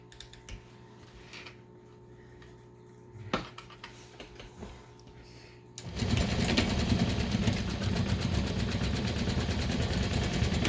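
A sewing machine stitches a 1/8-inch seam straight down the side of an embroidered poop bag holder, starting after quiet handling sounds and running as a loud, steady, rapid mechanical whir for the last five seconds.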